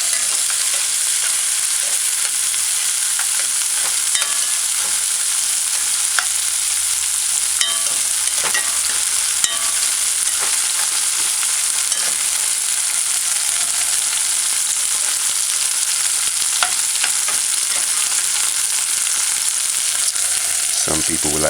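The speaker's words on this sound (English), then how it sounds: "But I like my onion sauteed, so I'm gonna let it cook for a little while." Scallion, onion and garlic saute in a pan with a constant, bright sizzle, close and steady throughout, with a few faint clicks and stirring touches and no voices.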